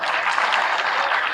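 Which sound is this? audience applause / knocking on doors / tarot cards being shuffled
audience applause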